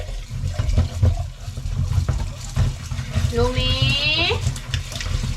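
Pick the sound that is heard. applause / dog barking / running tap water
running tap water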